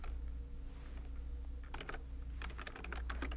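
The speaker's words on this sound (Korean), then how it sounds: "직접 타이핑 쳐주세요." Typing an address on a computer keyboard: quiet, close key clicks in irregular bursts, sparse at first and then quicker clusters of taps, over a low steady hum.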